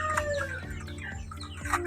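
Rhode Island Red chickens cluck softly and repeatedly nearby, short throaty calls overlapping against a low farmyard background.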